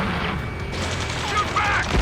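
Ace Combat 7 battle audio: bursts of gunfire and booms under shouted radio-style voices, a dense, loud, continuous wash of combat noise.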